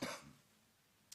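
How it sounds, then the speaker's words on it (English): A single quiet cough bursts out at the start, then dies into near silence, with a faint throat sound at the very end. "I've got a bit of a cough"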